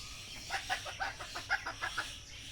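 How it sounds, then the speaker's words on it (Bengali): Native rooster and hens clucking close by in a farmyard, a run of short rhythmic clucks and calls over roughly two seconds with no talking. "এই যে আমাদের বংশীয় মোরগ"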